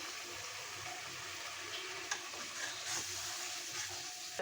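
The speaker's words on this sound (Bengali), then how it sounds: "মশলাটা ভাজা হয়ে গেছে, আমি সামান্য একটু পানি দিয়ে মশলাটা ভালো করে কষিয়ে নেব" Soft, steady sizzling from spice paste frying in a pan for a bull's head skin curry, with faint stirring scrapes and clicks, fairly quiet and without speech.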